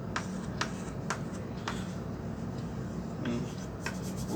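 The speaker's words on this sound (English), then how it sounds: "If I can draw a small sketch here just to illustrate." Scratchy strokes of a pen or marker drawing a small sketch, a run of short rubbing scrapes at an irregular pace over a soft background hiss.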